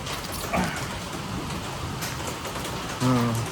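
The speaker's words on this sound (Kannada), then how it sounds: "ಮಳೆ ಬರ್ತಾ ಇದೆಯಲ್ಲ, ನೀರೇನು ಬೇಕಾಗಲ್ಲ" Rain falls steadily over a garden with hibiscus plants, an even close patter throughout, and two brief tonal sounds rising over it near the start and the end.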